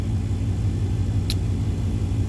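A 1996 Dodge Ram with its 318 V8 idles steadily, a low throbbing rumble running continuously and close by, the engine noted as needing a tune-up; a single brief high squeak cuts in partway through, with no one talking.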